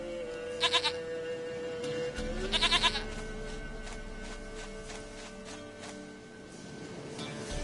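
A goat in the video game Witcher 3 gives two short bleats a couple of seconds apart over a soft musical background, fairly close and clear.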